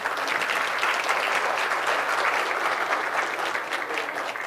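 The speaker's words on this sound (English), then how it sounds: "So please give them a big applause again." A conference audience applauds steadily, a dense wash of clapping filling the hall for several seconds at a consistent, moderately distant level.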